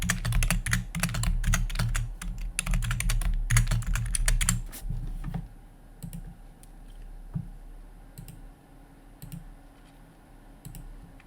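Fingers clatter rapidly across a computer keyboard in dense, close bursts of typing for about five seconds, then slow to a handful of isolated key clicks separated by long pauses.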